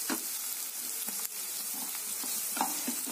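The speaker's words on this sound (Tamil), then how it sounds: "பெரிய வெங்காயம் பொன்னீர் ஆகிற வரைக்கும் நம்ம வந்து வதக்கணும்." Chopped large onions and cloves sautéing in a pan for cauliflower curry, a steady close sizzle with soft stirring scrapes throughout, no speech.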